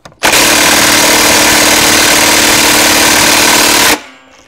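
A Makita 3/4-inch D-handle impact wrench runs at full power for about four seconds, a loud, steady, continuous hammering whine that cuts off abruptly, with no talking.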